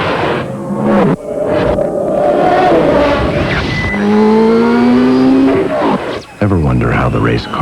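A race car in a TV commercial revs its engine hard, with rising engine whines and a burst of tire squeal, loud and close throughout.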